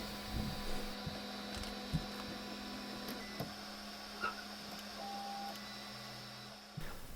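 A 3D printer prints a small puzzle, a steady mechanical hum with soft stepper-motor whirs, occasional clicks and short tonal beeps as the head moves, continuing at low level throughout.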